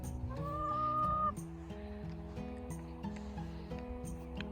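A rooster named Shelly lets out a sustained crow over a flock of chickens clucking on a homestead, the crow rising first and then giving way to steady nearby clucking.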